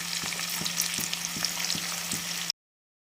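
Onions and green chillies fry in a pan with a steady close sizzle, punctuated by regular soft stirring scrapes about every half second.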